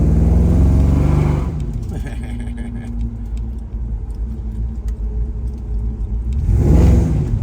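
A 1970 Chevrolet Chevelle engine idles and runs with a steady low rumble, revving up near the start and end, with voices speaking over it.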